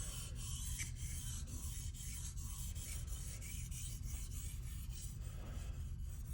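An Anryu gyuto kitchen knife scrapes back and forth over a Sharon 2k whetstone in a steady, rhythmic rasping, close and continuous without pause.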